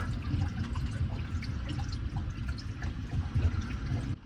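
Gray water gurgles and drips steadily as an RV gray tank is refilled, a continuous low, bubbling wash of liquid with small trickling splashes, fairly close and uninterrupted until it cuts off near the end.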